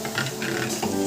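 Watermelon mixture for popsicles being stirred in a bowl, a steady close scraping and swishing with no talk.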